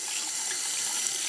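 A makeup brush is rinsed under a running kitchen tap, a steady close hiss of flowing water splashing into a sink, continuous and even for the whole moment with no voices.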